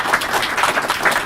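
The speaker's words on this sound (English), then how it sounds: "Please give her a round of applause." An audience applauds a school district executive director at an IEEE engineering education awards ceremony, a brief, loud and even burst of many hands clapping.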